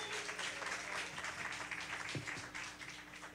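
Audience applause for a band at a televised music show, steady broadband clapping throughout, moderately quiet and somewhat distant, with faint low hum underneath.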